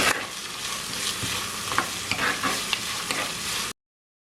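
Chicken hearts with ginger fry in a pan while being stirred, producing a close, lively sizzle punctuated by spoon scrapes and knocks, then cutting off abruptly near the end, no voices.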